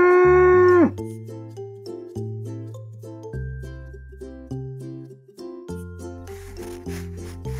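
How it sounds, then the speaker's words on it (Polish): A cow gives one short, loud, low moo at the very start, after which a bright, bouncy children's tune plays on its own. "Krowa."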